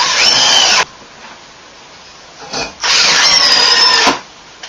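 A power drill drives screws into wood during a bathroom remodel, close and loud in two sustained bursts of whining motor, each under a second to about a second and a half, separated by a quiet gap with a brief scrape.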